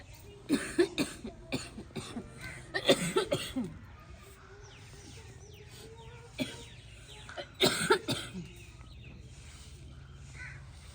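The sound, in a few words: woman coughing from smoke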